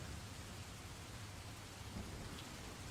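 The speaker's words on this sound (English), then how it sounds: "are you talking about the fucking rain that's in the background?" Steady rain falls in the background as a soft, even hiss with occasional low rumbles, faint and continuous, with no voices over it.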